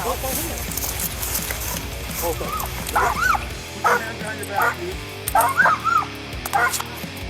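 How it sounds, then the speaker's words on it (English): Police K9 dog during a suspect takedown, barking and yelping in several sharp bursts amid loud shouting officers and scuffling, fairly close, with voices throughout. "Canine Bronco quickly brought him down"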